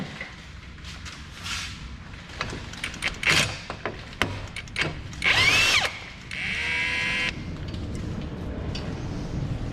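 A power tool whirs and buzzes in several short bursts, then one longer run, as it loosens two 19mm front brake bolts on a Honda Odyssey in a quiet workspace.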